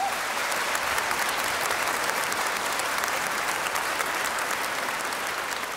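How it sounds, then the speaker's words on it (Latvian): A large audience at a Latvian festive concert applauds steadily, a dense, even roar of many hands clapping that holds at a constant level throughout without pauses. "Aplausi!"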